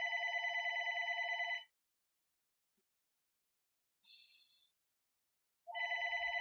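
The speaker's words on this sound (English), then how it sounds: "Pardon me, my phone is ringing." A phone rings with a clean electronic trill in two long bursts separated by silence, with a brief softer tone in between, all close and clear.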